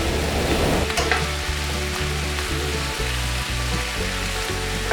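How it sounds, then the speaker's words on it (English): Smoked country ham frying in a pan makes a loud, steady, close sizzle that fills the whole stretch, with a faint musical backing underneath. "when you fry country ham"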